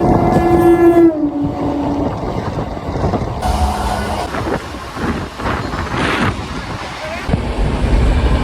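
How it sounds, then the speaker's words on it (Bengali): A passenger train on the Sealdah to Bolpur Santiniketan line sounds its horn with a long tonal blast, then rumbles and clatters past, with wheels and cars rattling loudly nearby. "এই ট্রেনে তোমরা মাত্র চল্লিশ টাকায় শিয়ালদা থেকে চলে যেতে পারবে বোলপুর শান্তিনিকেতন"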